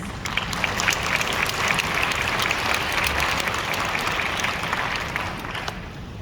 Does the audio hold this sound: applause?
yes